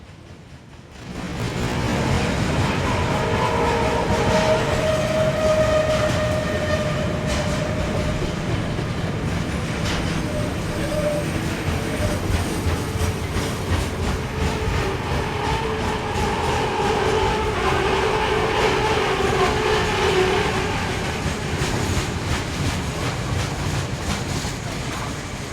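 A KiwiRail EF electric locomotive, a 4,000-horsepower 25 kV AC machine in New Zealand, hauls a train past with a sustained loud rumble, rail clatter and a faint whine, fading slightly at the end.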